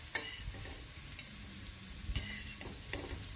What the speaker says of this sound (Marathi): या वड्या या तव्यावर अलटून पलटून छान कुरकुरीत होईपर्यंत भाजून घेऊया